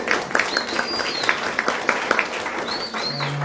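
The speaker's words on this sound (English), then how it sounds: "So if you guys could applaud for that." At an educational meeting, an audience applauds with scattered, moderately loud claps, while faint bird chirps and a low hum sit in the background.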